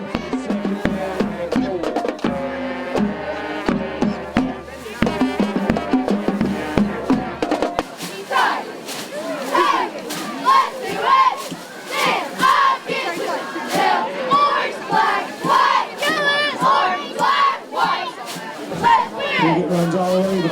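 High school cheerleaders at a Friday night football game chant in rhythmic shouted bursts, preceded by an announcer speaking over music, with crowd noise underneath.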